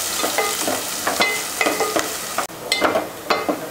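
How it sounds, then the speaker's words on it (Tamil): Onions and curry leaves sauté in hot oil in a pan, a close sizzling hiss broken by repeated scraping stirs of a spoon every fraction of a second, with no talking. "போட்டு இதை நல்லா கலர் மாறுற வரைக்கும் வதக்கிக்கலாம்."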